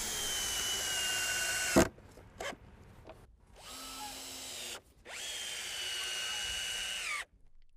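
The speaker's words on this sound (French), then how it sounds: "Pour avancer plus vite, on peut utiliser la perceuse pour visser ainsi les chevrons." A cordless drill whirs in sustained bursts, stopping and starting as screws are driven into wooden rafters, with short knocks between runs.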